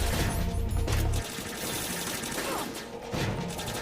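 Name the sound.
gunfire in Metal Gear Solid video game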